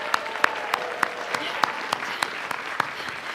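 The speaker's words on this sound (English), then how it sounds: "And one more big round of applause for all of our guests of honor." Applause at a convention closing ceremony for the guests of honor, a steady wash of clapping from a crowd with sharper individual claps popping through at regular intervals, heard without talk.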